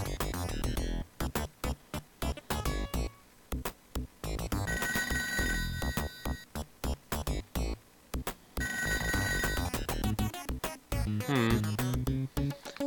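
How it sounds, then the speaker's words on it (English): A telephone ringing in a video game, repeated bursts of electronic ringing tones that alternate with short gaps, loud and up front among busy game sounds for the whole stretch. "Where's that phone?"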